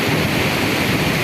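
A fast-flowing Himalayan river, the Assi Ganga, roars steadily nearby in a dense, continuous broadband rush of churning water with no pauses, heard alone.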